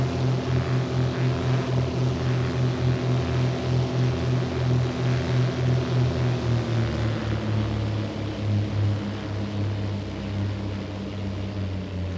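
A Beechcraft Baron 58 twin propeller plane in the X-Plane flight simulator, flaps and landing gear fully extended, gives a loud, steady, close engine drone with a throbbing propeller beat that eases slightly toward the end.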